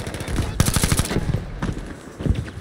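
Rapid automatic bursts from an M1907 SF rifle in Battlefield V on the Rotterdam map, two dense volleys of sharp cracks close up with a short pause between them.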